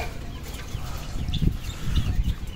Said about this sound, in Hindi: मैंने मुर्गियों को खाना डाल दिया था, तो आप देख सकते हैं सारी जो है ना धड़ाधड़ खाना खा रही हैं